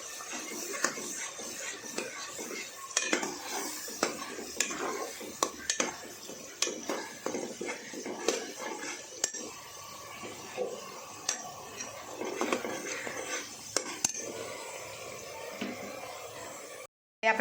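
A spatula scrapes and stirs ingredients roasting in a pan over a medium gas flame for a sev usal dish, making repeated clinks and scrapes over a low sizzle at moderate, close volume.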